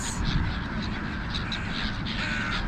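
Several crows caw repeatedly nearby as they feed on nuts, over a heavy low rumble of wind, with other birds calling in the mix.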